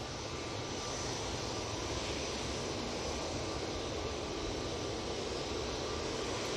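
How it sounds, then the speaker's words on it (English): An Etihad Airways Boeing 787-9 Dreamliner arriving at Manchester Airport from Abu Dhabi, heard as a steady, broad jet roar that holds evenly throughout with no talk. "Next in, we have the Etihad Airways 787-9 Dreamliner coming in from Abu Dhabi."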